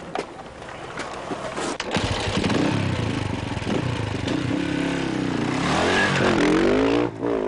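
Motorcycle engine during an enduro rally in muddy Limousin terrain, running loud and close for the whole stretch with rising revs and gear changes near the end.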